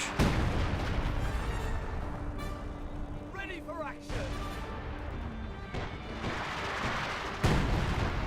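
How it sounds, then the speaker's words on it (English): An artillery barrage in Company of Heroes 2 lands as scattered crashing impacts and booms through a busy battle mix, with someone talking over it throughout. "the artillery barrage running on in somewhere"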